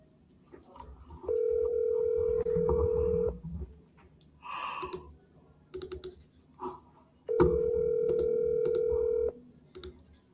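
A telephone call rings out twice before going to voicemail, each burst a steady electronic tone lasting about two seconds with a short pause between, loud and close over a faint background.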